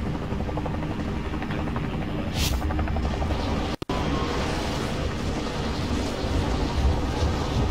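Helicopter in a video game, a steady dense rotor roar filling the scene continuously, loud and close with a brief dropout near the middle.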